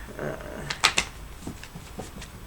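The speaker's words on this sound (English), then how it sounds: "Let me give this a good shuffle, y'all." A deck of tarot cards is shuffled by hand in a quiet room: a quick run of soft riffling clicks and flutters, close and fairly faint.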